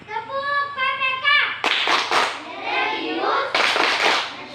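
A classroom of children performs the PPK clapping chant, a harmonized group vocal at first, then loud bursts of rhythmic hand clapping mixed with shouted chanting, close and filling the room.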